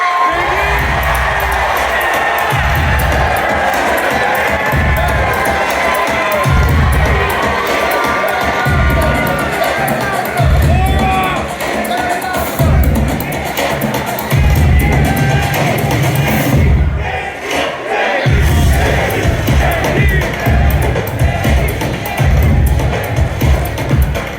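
A live audience at a fan festival in New York cheers and whoops loudly to welcome basketball player Kevin Durant, a dense, sustained roar with high shouts running throughout.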